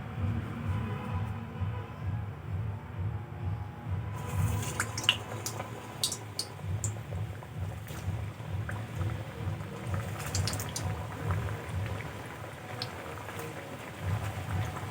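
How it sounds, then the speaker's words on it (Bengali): Bengali pitha cakes sizzling in hot oil in a home kitchen, a steady low bubbling fry with crackles and pops that grow busier as the cakes go in, close and fairly quiet with no talk. "এখন আমি পিঠেগুলো তেলের মধ্যে দিয়ে দেব।"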